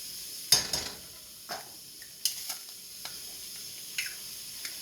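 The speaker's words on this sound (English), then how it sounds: "I'm going to crack a couple eggs in there" A couple of eggs cracked into a hot Saladmaster egg pan, giving soft sizzling and scattered light pops and taps, quiet and close with no talking.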